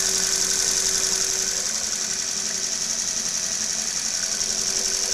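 A very large DC brush motor running fast with field and armature windings wired in parallel, a steady high-pitched whine with a constant hum underneath, close and uninterrupted.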